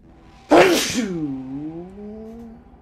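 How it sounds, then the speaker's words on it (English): A single loud, close sneeze bursts out, followed by a drawn-out voiced groan that trails off. "That was a heavy-ass sneeze"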